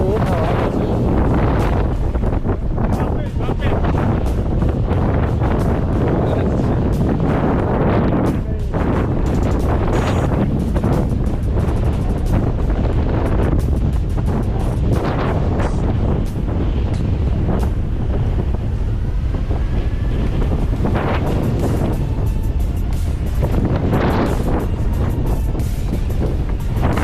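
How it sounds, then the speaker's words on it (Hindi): Very strong wind blows hard and continuously at Hussaini Bridge in extremely windy weather, a loud, unbroken roar buffeting the microphone with gusty swells, while a person speaks faintly beneath it. "बहुत तेज हवा चल रही है।"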